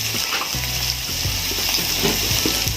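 Egg sizzling and frying in a pan with a little chicken masala added, a steady close hiss with occasional soft stirring scrapes and clinks.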